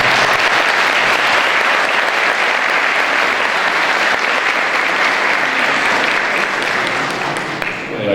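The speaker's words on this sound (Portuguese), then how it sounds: "Uma salva de palmas para ele." A large audience at a Spiritist week gathering gives sustained, dense applause that holds steady and loud for several seconds before tapering slightly at the end.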